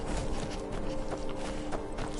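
Hooves of a saddled horse clip-clop at a steady walking pace in Skyrim, a close, even rhythm of soft thuds running over a bed of ambient game sound.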